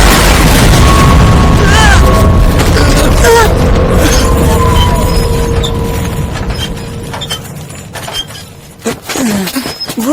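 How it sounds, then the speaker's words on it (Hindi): A loud anime explosion blast booms out at once, its heavy rumble rolling on and slowly fading over several seconds, with debris-like crackles and a few faint voices near the end. "अरे ये धमाका कैसा था?"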